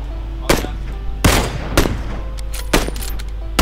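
Enemy gunfire in a battle royale video game: sharp repeated gunshots in short bursts, loud and close, over a steady low background hum.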